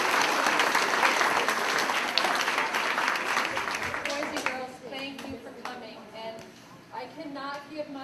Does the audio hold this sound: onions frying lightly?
no